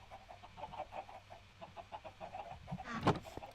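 Chickens cluck in a Minecraft chicken farm, a string of short, evenly spaced clucks at moderate loudness, ending in a sharper, louder burst near the close.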